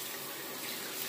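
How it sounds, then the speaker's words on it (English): A water tap runs steadily into a sink during a shave with a King C. Gillette razor and Proraso foam, a hand being rinsed under the stream, a continuous close hiss with no talk. "Let me rinse my hand here."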